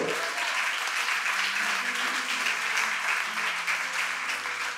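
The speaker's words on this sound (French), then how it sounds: "Applaudissez Jésus, alléluia." A church congregation applauds steadily for several seconds, a dense, even clatter of many hands with a faint murmur of voices underneath.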